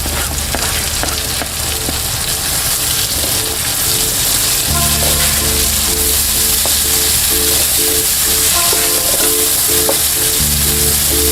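Onions, tomatoes and green chillies fry loudly in a pan, a dense, constant sizzle heard up close for several seconds, with faint stirring and no voices.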